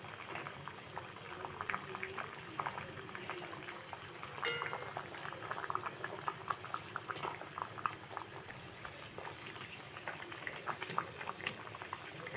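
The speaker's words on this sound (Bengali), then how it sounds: "ঝোলটা খুব সুন্দরভাবে ফুটে গেছে" Pabda fish curry gravy boiling in a covered pot: a constant soft bubbling with frequent small pops and blips, fairly quiet and steady throughout.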